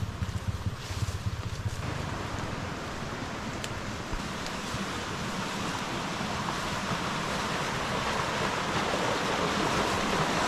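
A river flows along a mountain hiking trail, a loud, constant broadband rush of water that fills the whole clip without pause.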